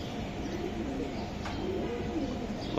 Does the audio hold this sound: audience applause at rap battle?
no